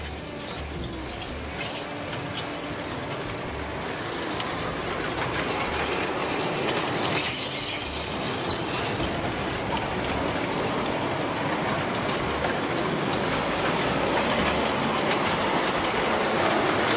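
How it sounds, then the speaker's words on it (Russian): A narrow-gauge garden railway train running on a country-dacha line, giving a continuous rumbling roll with faint clickety-clack from the rails, steady and fairly close throughout, with no voices. "Вот, например, опытная поездка для рассмотрения идеи создания локомотива."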